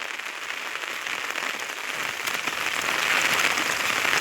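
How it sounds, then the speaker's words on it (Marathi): Heavy pre-monsoon rain pours steadily on a village in Maharashtra, a dense hiss of drops on surfaces that grows a little louder toward the end, with no voices. "वळवाच्या पावसाचा जाम पावस आहे मित्रांनो"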